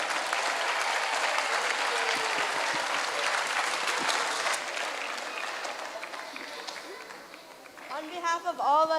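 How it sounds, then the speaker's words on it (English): A large audience at an annual stage show gives sustained applause, loud and dense at first, then gradually thinning, with a voice speaking over the fading claps near the end. "Please give them a round of applause."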